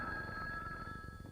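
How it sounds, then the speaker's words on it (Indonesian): A telephone bell rings continuously with a bright, sustained tone. It stays loud and even, and nothing else is heard. "Tuh nih, telepon. Angkat, Gi."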